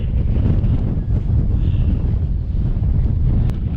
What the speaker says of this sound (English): Wee bit windy.